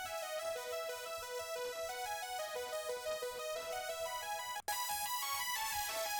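Dry two-voice detuned saw-wave synth with no effects chain, playing a bright buzzy sustained line at moderate level, with a brief dropout near the end before continuing.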